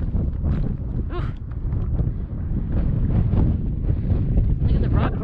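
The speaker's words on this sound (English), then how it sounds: "Of course, there's wind." Wind buffeting the microphone on a rock at the North Rim of Black Canyon of the Gunnison, a steady low rumbling gusty roar throughout with a person briefly talking over it.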